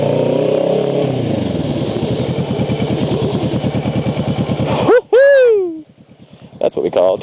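Street traffic in Taiwan with cars and motorcycles: a close engine idles and revs in a rapid, pulsing rhythm, then cuts off abruptly. A sharp squealing tone follows, then quieter scattered sounds.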